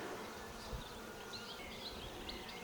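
Honey bees in spring at a Ukrainian-Alpine style hive, with pear and rapeseed in bloom, hum in a dense, continuous buzz close by, with individual bees droning past over the steady swarm.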